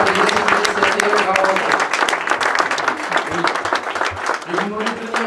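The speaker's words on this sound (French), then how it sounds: "vous pouvez les applaudir bien fort pour le cadre récipiendaire des ACPG-CATM" Applause from a crowd at a commemoration ceremony for 8 May 1945 during a medal presentation, steady and dense throughout, with voices talking over it.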